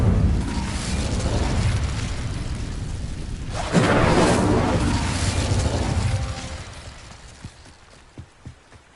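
Incendio fire spell cast in Hogwarts Legacy, a sustained roaring whoosh of flame that surges loudly partway through, then fades out with a few faint thumps at the end.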